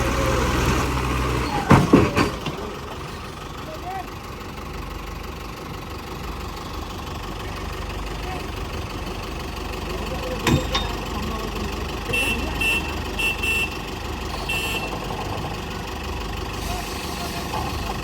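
A bulldozer engine works on a rough mountain road between Ghandruk and Pokhara, a continuous mid-pitched diesel rumble with a sharp clank near the start and some knocking, heard under people talking.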